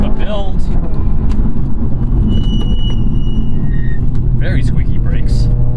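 A 2019 Subaru WRX with a turbocharged engine drives along, its engine and road noise holding as a steady loud rumble, with brief high squeals cutting through and someone talking over it.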